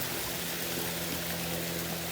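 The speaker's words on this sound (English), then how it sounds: "as the water is pumped up top, it comes down this nice natural waterfall here" Pumped water pours down a natural rock waterfall into a koi pond, a steady close rushing splash that carries on unbroken, with no voices.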